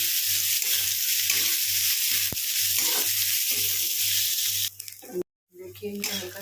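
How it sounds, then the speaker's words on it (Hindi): Ingredients for dhaba-style dum aloo sizzle loudly in hot oil, a dense continuous hiss with faint stirring knocks, cut off by a brief gap near the end. "तेल भी हमारा गर्म हो चुका है, उसमें हम इन सभी को ऐड कर लेते हैं।"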